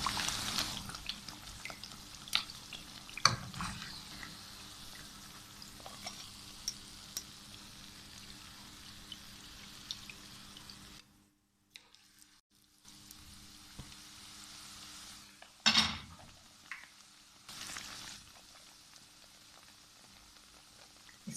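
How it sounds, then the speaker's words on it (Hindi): Naan pakora frying in hot oil in a pan, a quiet steady sizzle with occasional louder crackles and pops, briefly dropping out before resuming. "2 मिनट हो गए हैं इसको फ्राई होते हुए और ये दोनों साइड अच्छी तरह फ्राई हो गए हैं।"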